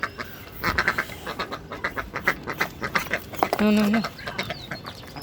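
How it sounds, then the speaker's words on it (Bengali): Farmyard ducks quack in quick, close bursts as they are fed, with a longer nasal call near the end and chickens clucking nearby. "এখন আমি হাঁসদেরও খাবারটা দিয়ে দিতেছি"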